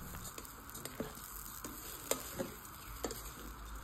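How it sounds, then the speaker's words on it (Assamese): Rice grains fry gently in a pan for vegetable pulao, a soft, faint sizzle with scattered pattering and scraping stirs and occasional light taps. "চাউল কিটা দি আকৌ অকনমান ভাজি লম"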